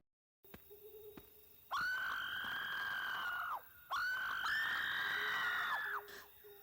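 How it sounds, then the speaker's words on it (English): A fox's shrill, wavering screams sound as a triggered effect in a horror game built in Dreams, in two long loud cries separated by a short pause, with faint low calls before them. "To the surprise of many gamers, yes, this is kind of what a fox sounds like."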